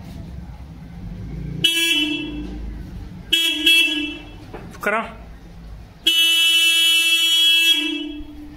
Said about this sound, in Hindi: तो भाई आपने देखा कितनी भयंकर साउंड आ रही है हॉर्न की